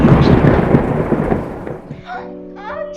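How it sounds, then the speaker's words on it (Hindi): A strong thunderstorm rages outside with loud, broad rumbling and rushing wind or rain that fills the first two seconds and then fades. Bright, steady tones take over after it, and a voice sounds briefly near the end. "ये बाहर इतनी जोर की आंधी तूफान क्यों आ रही है?"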